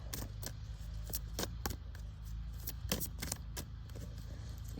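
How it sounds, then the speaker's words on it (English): Tarot cards are shuffled by hand in a quiet room, a run of light papery snaps and riffles in irregular bursts, close and fairly soft, with no talking. "I'll do 3 more shuffles."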